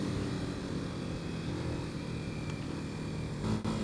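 Kawasaki KLX 230 dual-sport motorcycle engine while riding, a fairly quiet steady hum with wind rush, constant through the stretch and swelling briefly near the end.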